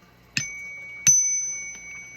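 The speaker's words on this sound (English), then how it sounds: "Spirit's telling me to ring the bell again." A small hand bell, likely a bicycle-style bell, is struck twice about a second apart, each ring a sharp close strike followed by a clear sustained tone that lingers and slowly fades, with a faint third tap near the end.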